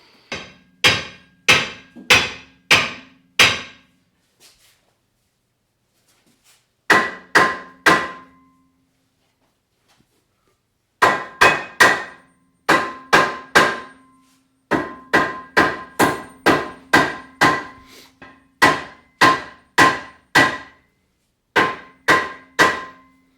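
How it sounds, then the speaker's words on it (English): Loud metallic hammer strikes on rusted rear brake parts of a Hyundai Santa Fe, in quick bursts of four to six blows separated by short pauses, close and ringing, with no talking. "we have to hammer these things out"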